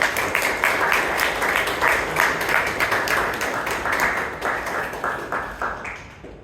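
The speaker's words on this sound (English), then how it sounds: "Let's give her a round of applause." A room full of people at a Toastmasters club meeting applauds, dense clapping that stays strong for several seconds before thinning out and fading toward the end.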